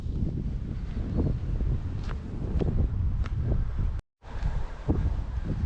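Strong wind buffets the microphone outdoors in Scotland, a loud, continuous low rumble with gusty surges and a brief dropout near the end.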